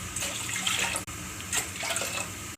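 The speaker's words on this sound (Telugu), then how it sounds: "వేరే గిన్నెలో 3 గ్లాస్ ఆఫ్ వాటర్ పోసుకుందాం" Water pours into a pot, a close, steady splashing stream in two short bursts separated by a brief break, with no talk.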